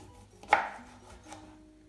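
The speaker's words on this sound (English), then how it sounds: "Slice your lemons" A single sharp knife chop through a lemon onto a board, followed by a fainter second cut, in a quiet room with no talking.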